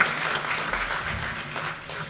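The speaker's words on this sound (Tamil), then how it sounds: "பாக்கியராஜ் சாருக்கு பலத்த கரகோஷம் கொடுங்க சார்" Audience clapping at a film audio and trailer launch event honoring Bhagyaraj, a steady dense wash of applause from a crowd filling the short moment without speech.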